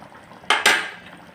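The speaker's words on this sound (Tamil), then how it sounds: "இப்போ கத்திரிக்காவை போடலாம்" Brinjal pieces drop into simmering oil kuzhambu in a pan, giving two quick close splashing clatters over a low bubbling background.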